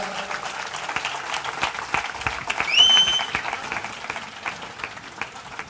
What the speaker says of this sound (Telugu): Can we all clap?